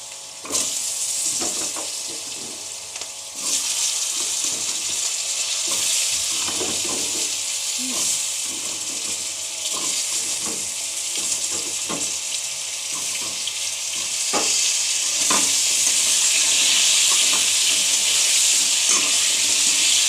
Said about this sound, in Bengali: সামান্য নুন আর একটু হলুদ গুঁড়ো দিয়ে আলুগুলো ভেজে নেব